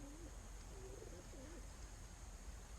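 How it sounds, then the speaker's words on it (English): Pigeons at Devils Lake, Wisconsin give a few soft, low cooing phrases close by against steady rain or wind noise, with no talking. "Oh, these are pigeons."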